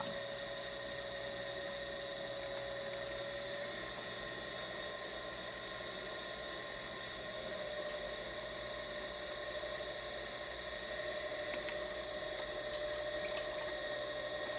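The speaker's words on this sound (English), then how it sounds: "Turn your wheel on. You want to spin really fast and you want to add a lot of water." A potter's wheel spins fast while water is added to clay being centered, giving a steady wet whirring and hum with a sustained mechanical tone throughout, fairly close and even in level with no voices.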